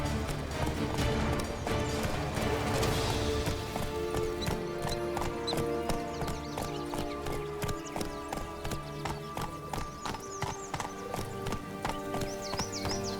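The horse Roach gallops in The Witcher 3, with rapid rhythmic hoofbeats that run unbroken under a dense layer of music and ambience throughout.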